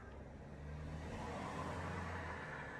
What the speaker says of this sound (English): Sorry about the traffic, I'm in the garage.